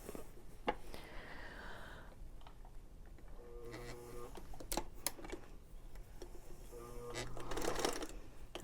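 A sewing machine stitching a quilt seam for scrappy quilting, short bursts of rapid mechanical chatter separated by pauses, close and moderately quiet, with handling noises and rustling between runs.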